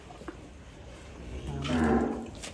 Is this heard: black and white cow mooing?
yes